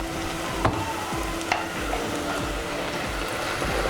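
Ginger garlic paste frying in oil with browned onions, a steady close sizzle with a few sharp clinks of a stirring spoon against the pan.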